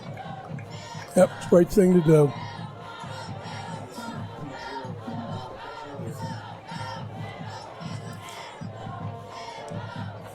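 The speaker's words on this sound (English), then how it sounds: "People are clapping." A crowd at a high school football game between Millville and Mainland cheers and claps in a loud burst of whoops early on, then settles into a steady murmur of crowd noise while people talk nearby.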